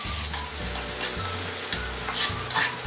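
Margarine melting and sizzling in a hot pan for Java rice, a loud, dense, continuous frying hiss close by, with a low hum underneath and faint clicks, and no voices.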